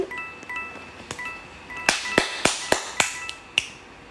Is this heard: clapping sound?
yes